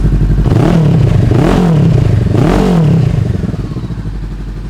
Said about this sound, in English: Fires right up. You guys can hear that Two Brothers exhaust.